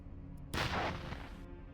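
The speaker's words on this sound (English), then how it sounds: "I think I've set off an explosion in one of the rooms." A solvent explosion goes off in a room in a video game, a single loud broadband blast that hits suddenly and decays over about a second into a fading rumble, with no talking.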